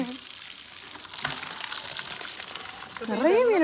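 Water drains from a fish tank through an outside valve into a bucket, making a steady rushing gush that swells louder near the end, with faint voices in the background.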